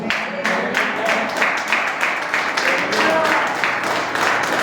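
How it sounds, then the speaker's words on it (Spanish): Church congregation clapping for the Lord during a sermon, a dense, continuous patter of many hands with overlapping voices and shouts mixed in throughout. "Dale un aplauso al Señor."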